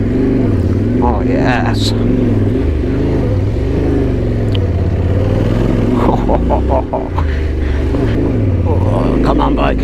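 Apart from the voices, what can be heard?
Yamaha Tenere motorcycle engine straining on loose forest trail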